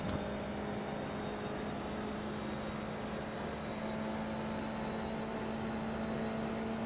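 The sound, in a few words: Formula car engine in video game iRacing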